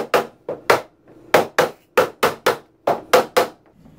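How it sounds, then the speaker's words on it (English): Hammer striking the plastic doors of a Rubbermaid housekeeping cart to seat them, about a dozen sharp, close knocks in quick irregular pairs, loud and dry with no talking. "we can proceed to hammering all of them down evenly"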